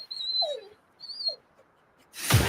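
A dog whimpers in a Milk-Bone treat advert, giving a few soft, high whines with short pauses between them, followed by a sudden burst of broadband noise at the end.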